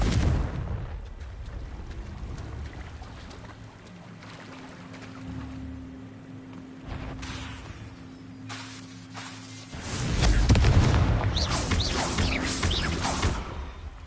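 A Confringo explosion spell in the game Hogwarts Legacy goes off as a loud, broad blast partway through, over a steady rumbling game soundscape with low droning tones.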